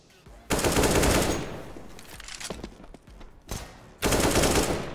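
Video game gunfire rattles in loud automatic bursts, one long volley, scattered shots, then another burst.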